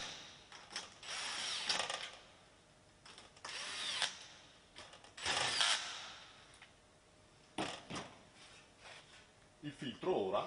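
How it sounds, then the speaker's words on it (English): An electric screwdriver tightens nuts on a kitchen filter assembly in several short whirring bursts separated by pauses, close and moderately loud, with speech in between. "either manually or using an electric screwdriver, start tightening the nuts in the middle"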